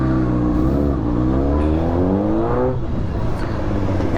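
A Honda CBR600RR sport bike's exhaust revs loud and close, the engine note rising and falling through continuous throttle blips.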